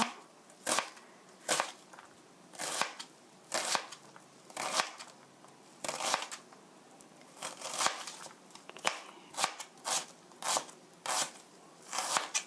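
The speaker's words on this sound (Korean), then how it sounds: "찹스 다져 주세요" Ingredients for mapo tofu minced with a knife on a cutting board, a steady series of crisp chopping strikes, close and fairly quiet, falling in an even rhythm about once a second, with no talking over it.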